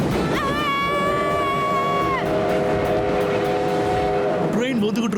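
An approaching train in an animated cartoon: a long, steady horn-like whistle with stacked tones, falling slightly then holding, over a continuous rumble, ending in a rattling clatter; loud and close.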